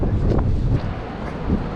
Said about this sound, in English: You like the wind?